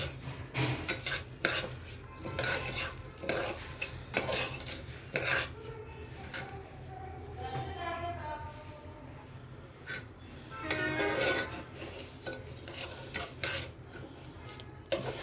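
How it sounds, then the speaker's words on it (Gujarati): Broken wheat (fada) stirred in melted ghee in a pot on the stove gives a steady scraping, rasping clatter with repeated spoon-on-metal knocks, close and moderately loud throughout. "ઘી પીગળે એટલે એમાં 1 બાઉલ ફાડા નાખી દઈશું અને એને ચલાવીશું"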